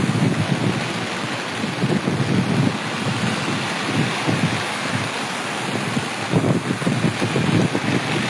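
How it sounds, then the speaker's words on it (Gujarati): Heavy rain pours down outdoors in a dense, continuous roar that swells and eases with gusts, with no voices. "બહુ વરસાદ છે, બહુ એટલે બહુ જ છે."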